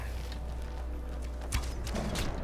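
Horse hooves clip-clop steadily over a constant low rumble, with a few louder hoof strikes toward the end, in the video game Skyrim.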